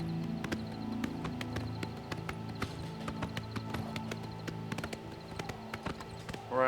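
Horse hooves clip-clop in a steady, close trot in Oblivion Remastered, with a brief whinny near the end, over a soft game ambience.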